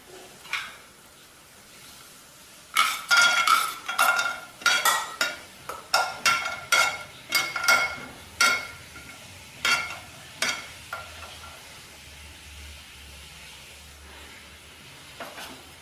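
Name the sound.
cashews frying in ghee, stirred in a pan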